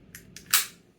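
Bolt release on a T/C T/CR22 rifle fitted with a Ruger BX trigger, two quick faint metallic clicks followed by a sharper, louder snap, close up and alone.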